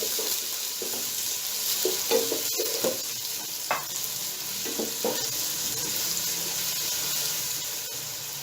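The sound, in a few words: chopped onions frying in oil in a pan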